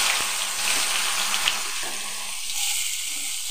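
Onions sizzling in hot mustard oil left over from frying fish, a steady close crackle and hiss with a few faint clinks.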